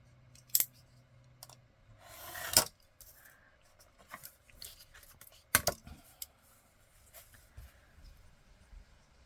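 A craft knife drawn along a ruler cuts paper for a junk journal, heard as sharp scraping strokes and clicks between quiet stretches, close by on a tabletop.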